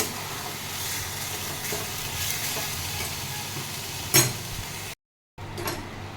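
Gobindobhog rice mixture is stirred and dry-fried in a pan, giving a steady close sizzle with scraping strokes, a sharp clatter near the end, then a brief cut to silence before the frying resumes.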